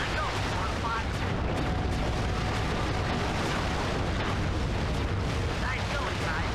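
Cannon fire and explosion in Sly 3: Honor Among Thieves, a charged shot from a manned cannon aimed at a boat: dense, continuous roaring blast noise with rumble throughout, voices present.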